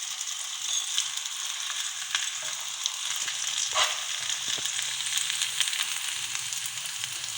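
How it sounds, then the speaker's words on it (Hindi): A chickpea paratha fries on low heat in a little oil or ghee, producing a steady close sizzle with faint crackles and a few light scrapes, and no one speaking. "फिर इसके ऊपर थोड़ा सा ऑयल या घी जो आप चाहें वो डाल दें और फिर इसकी हम साइड चेंज करेंगे।"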